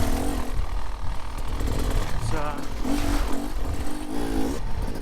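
A Beta Xtrainer 250 dirt bike pulls away. Its engine revs rise and fall in several short bursts under rushing wind noise, and a voice is partly audible.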